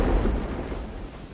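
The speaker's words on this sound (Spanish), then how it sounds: "El crucero de guerra Aurora efectúa un disparo de salva" A blank salvo fired by the warship cruiser Aurora: a deep, booming report that rolls off into a fading low rumble, heard alone.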